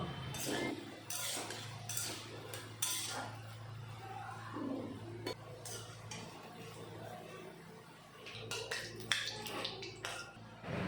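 A metal utensil lifts fried chana dal and bottle-gourd-leaf pakoras out of a pan, making quiet, scattered clinks and scrapes against the cookware over a soft low hum of the kitchen.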